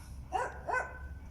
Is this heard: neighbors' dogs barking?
yes